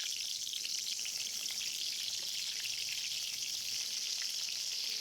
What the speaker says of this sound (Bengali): এদিকে আমি বেগুন ভাজাটা বসিয়ে দিচ্ছি।